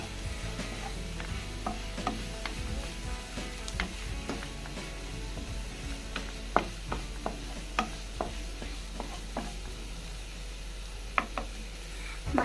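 Turmeric and garam masala are stirred in a hot pan, giving a steady low sizzle under scattered scraping clicks from the spoon, with no talking.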